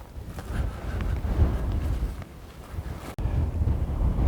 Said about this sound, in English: It's gotten quite windy out here.